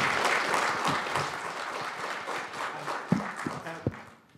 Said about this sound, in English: a very big round of applause, please, for Howard and Joy and Martin